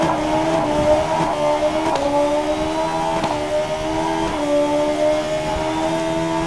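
Game car in Need For Speed accelerating hard through its gears, a loud steady engine drone that dips briefly at each quick upshift, heard alone and close.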